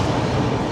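A moving passenger train bound toward Ghatshila rumbles in a brief, loud, steady roar, heard from on board with no talk.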